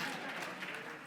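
Brief burst of steady audience applause fills the room at a Star Wars Celebration fan panel about the Ewok Adventure films, dense and even throughout with no clear voices on top.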